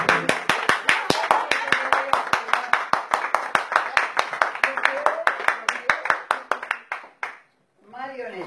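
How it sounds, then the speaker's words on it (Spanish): An audience claps in a steady, rhythmic beat at a live entertainment show in a Spanish restaurant venue, loud and close, ending abruptly before a brief pause and a spoken voice. "Un aplauso. Muchos aplausos."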